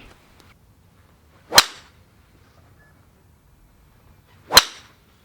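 Two sharp, clean golf driver impacts on the ball about three seconds apart, each a crisp crack with a short ringing tail against a quiet outdoor background.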